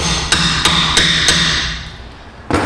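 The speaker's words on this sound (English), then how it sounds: "we're going to hit it with brass" A brass hammer strikes a new rear wheel bearing on a Suzuki SX4, four evenly spaced metallic blows with a ringing tone, then a pause and one more hit, close and loud.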